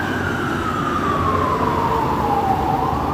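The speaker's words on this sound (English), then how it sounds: "And it's a fire truck" A fire truck siren wails continuously on a downtown Toronto street on a Thursday afternoon, April 22, 2021, its pitch sliding steadily downward as it passes, loud over steady traffic rumble.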